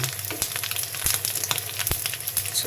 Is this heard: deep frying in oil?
yes